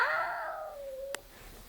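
A child imitates a cat's meow, one drawn-out falling mew up close, ending with a short click and no talk.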